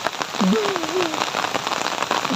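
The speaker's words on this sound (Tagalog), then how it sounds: "Kahit umuulan, nagtanim siya." A constant rain shower hisses loudly and evenly outdoors during planting, and a short stretch of speech rises briefly above the falling water.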